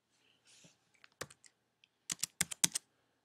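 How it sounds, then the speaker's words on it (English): Quick bursts of clicking keys on a computer keyboard while entering height into a BMI calculator on a website, a few soft taps followed by a fast cluster of loud, close keystrokes. "you can go here and you can type in"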